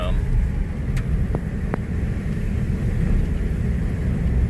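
Steady low road rumble from inside a car cruising along in the early morning, with a few faint clicks over the continuous engine and tyre drone.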